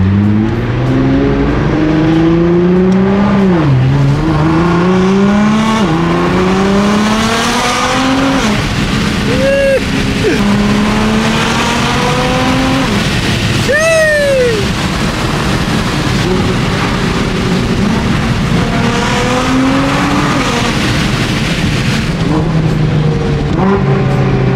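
A Nissan GT-R engine revs hard through repeated rising pulls, with sharp blipping downshifts and crackles in between, loud and close over road noise for the whole stretch, with no talking.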